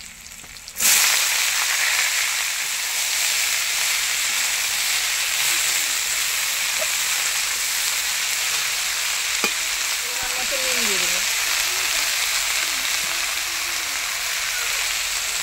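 Cut vegetables and onion hit a hot pan and burst into loud, steady frying, a constant sizzle and hiss that runs on evenly with a few faint clinks and stirring sounds.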